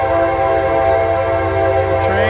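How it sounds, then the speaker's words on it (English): A train rumbles past with a sustained, loud horn-like tone over low rolling noise, steady and close throughout. "the train, guys, the train."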